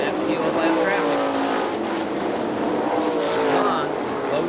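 Several 410 sprint race cars roar around the dirt oval at Hartford Speedway Park in Hartford, Michigan, engines droning loudly and steadily through heavy lap traffic, with a race announcer talking over the top throughout.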